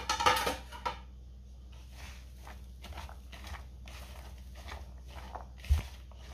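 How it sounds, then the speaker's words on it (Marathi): Onion and potato bhaji batter is mixed by hand in a bowl. The soft squelches and light clinks of the bowl come in an irregular rhythm, with one sharper knock near the end. "आता हे सगळं आपण हाताने व्यवस्थित मिक्स करून घेऊया।"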